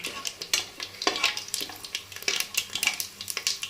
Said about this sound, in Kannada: ಈಗ ಒಂದ್ಸರಿ ಚೆನ್ನಾಗಿ ಫ್ರೈ ಮಾಡ್ಕೊಳ್ಳಿ.